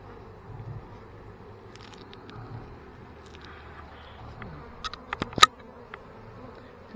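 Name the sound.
honeybees buzzing around the hive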